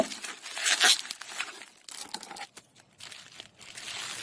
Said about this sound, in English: let me see if I can go ahead and unwrap this one